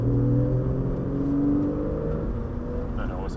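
A Porsche 911 accelerates around a race circuit, its engine droning loud and steady throughout, with rising harmonic tones as the revs climb. It is heard from inside the car, and a voice speaks over the engine.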